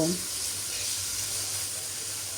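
Chickpeas going into a pan of garam masala spice paste cooked in a little oil, giving a steady, loud broadband sizzle that hisses evenly throughout with no pauses.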